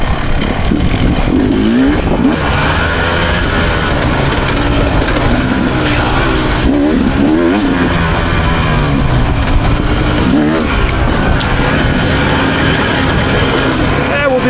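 A 250cc Beta dirt bike runs a lap with its engine droning loud and steady the whole way, pitch rising and falling through gear changes and throttle blips.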